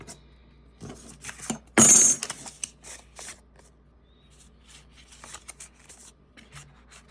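Edges of paper ephemera being trimmed for a tag: faint crisp rustles and small snips, broken by one loud papery burst, with quiet scraping handling around it and no talking.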